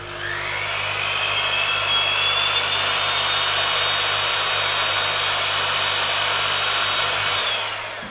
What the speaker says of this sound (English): Hopefully you can see the metal being shaved away there, and instead of a horrible sharp end, you've got a nice rounded tip to it.